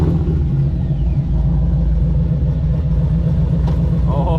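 A healthy LS-swapped Hemi Jeep engine with an aftermarket cam idles close by, giving a loud, steady low rumble with no break.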